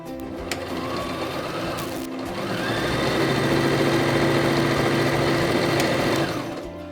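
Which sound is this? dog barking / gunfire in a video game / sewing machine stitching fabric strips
sewing machine stitching fabric strips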